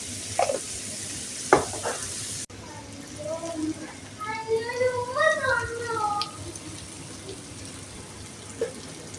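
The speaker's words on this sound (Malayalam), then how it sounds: "അതും കൂടി ഇട്ട് നമുക്ക് ഇളക്കി എടുക്കാം" Chicken fried rice stirred in a pan, with sharp spatula knocks early on, then a run of squeaky, wavering scrapes over a steady low sizzle, close and moderately loud.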